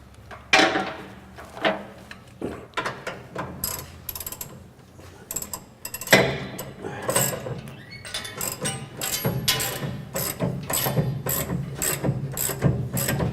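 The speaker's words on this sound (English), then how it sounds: "We'll jack that up, and I'll jack the motor up." A jack ratchets up to lift a car motor during an electric vehicle conversion, giving repeated sharp mechanical clicks in uneven bursts, close and fairly loud, then quickening into a dense, steady run of ratcheting strokes.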